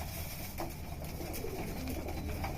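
Pigeons cooing softly while pecking at grit, a steady low murmur of coos and light rustling throughout, close by with no talk.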